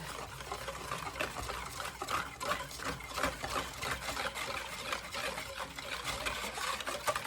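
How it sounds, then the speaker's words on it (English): A spoon stirs a mixture into milk in a bowl, producing a continuous soft liquid swishing and light clinking at an even pace, close and fairly quiet. "I'm just going to stir it till it's fully dissolved"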